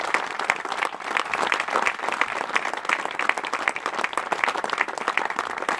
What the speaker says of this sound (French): je demande donc de les applaudir et d'applaudir également Jean-Bernard et Corinne